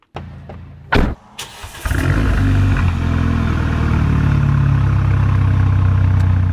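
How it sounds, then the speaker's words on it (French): Renault Megane 3 RS with a stage 1 tune, roughly 300 hp: a few sharp clicks and clunks, then the engine catches and settles into a loud, steady, rumbling idle close by. "je vais vous faire écouter la sonorité de la voiture comme elle est là à l'instant T"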